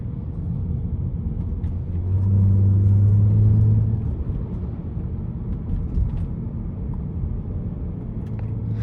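A BMW 340i cruising at night gives a steady low engine and road rumble from inside the cabin, swelling briefly around the middle as it pulls harder, then settling back to an even drone.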